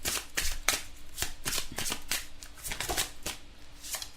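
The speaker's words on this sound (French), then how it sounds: "on va prendre des petites cartes du chakra du cœur" Oracle cards are shuffled and handled in a run of crisp, quick riffles and flicks, close and distinct, with brief pauses between bursts.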